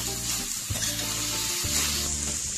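Chinese bhel of noodles and spring onion leaves tossed and mixed in a hot pan, giving a steady close sizzle with scraping and stirring knocks throughout, no voices.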